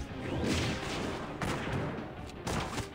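Gunfire from an attack in the video game DC Worlds Collide: three loud, dense bursts of shots and booms in quick succession, with no talking.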